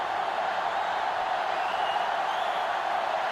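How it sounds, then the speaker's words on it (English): A sellout stadium crowd in the NCAA Football 2005 video game, a steady, dense roar of many voices holding at an even level throughout with no distinct cheers. "This sellout crowd is really making a difference now as these guys can't even call the play"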